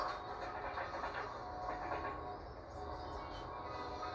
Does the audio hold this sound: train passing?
yes